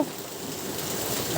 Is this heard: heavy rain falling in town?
yes